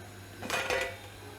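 Freshly fried, crisp khakhra is lifted out of hot oil into a dish, making one brief clatter and scrape of plate and utensil that rises and fades within about a second.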